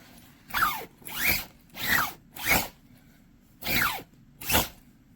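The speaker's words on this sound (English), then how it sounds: "Alright, let's see how the zipper does." Six quick pulls of a sleeping bag zipper in a steady back-and-forth rhythm, each a bright rasping zip, close up with quiet pauses between.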